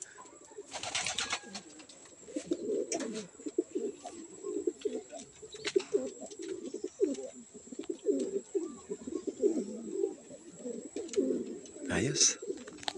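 Racing pigeons returning from a 50 km training flight coo and flutter nearby in a steady stream of soft calls, joined now and then by people talking and a sharp rustle of wings.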